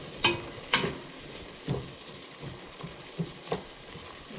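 Sliced green celery and red onion cook in a pan with a soft, faint crackle, while scattered sharper taps from the pan or a spoon break through every second or so.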